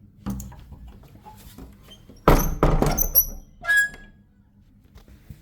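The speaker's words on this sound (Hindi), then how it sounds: "तो पहले मैं ये दरवाज़ा बंद कर लेता हूँ" A door on a home's rooftop is pulled shut, giving a loud, close clattering thump followed by a short high squeak, with no talking.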